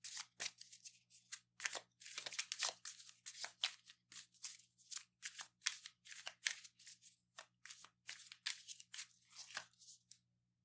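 A tarot deck is shuffled and cards are drawn. Quiet, close, crisp riffling and snapping comes in short, irregular bursts with no voice.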